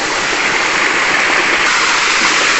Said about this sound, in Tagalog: Tsaka may nakita ako itong munting waterfalls.